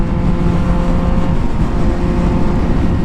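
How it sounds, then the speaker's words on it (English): A Yamaha MT-09 motorcycle ridden hard at high RPM, a loud, continuous engine roar mixed with wind rush and no speech. Distinct gear-shift breaks are hard to pick out. "The gear shifts on the high RPMs are really nice."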